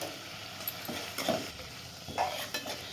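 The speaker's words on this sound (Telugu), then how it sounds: "పసుపు వేసుకుందాం పసుపు కూడా మంచిగా ఫ్రై కానిద్దాం" Turmeric and tomato sizzle quietly in a pan as egg rice is prepared, with a low steady frying hiss broken by a few soft scrapes and stirs of a utensil, close and fairly faint.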